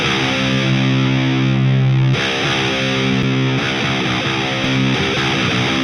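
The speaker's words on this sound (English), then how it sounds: "So I'm going to put that Ampex tape machine after both of these tones." Heavily distorted electric guitar tone driven through Ampex tape machine saturation, playing sustained chugging chords, loud and dense throughout with a change of chord partway through.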